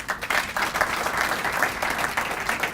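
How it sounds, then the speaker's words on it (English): Warm audience applause at a Paramount Chamber of Commerce State of the City luncheon, a steady wash of many hands clapping at moderate volume from start to finish with no talk over it. "thank you for the warm applause there for everybody"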